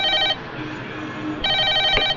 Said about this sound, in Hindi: शुभ मुहूर्त पर शुभ घंटी बजी है